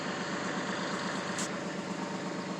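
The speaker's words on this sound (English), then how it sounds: "this is my Massey Ferguson 210" A Massey Ferguson 210 two-cylinder diesel tractor idles steadily, its low, even chugging thrum continuing throughout with no talk over it.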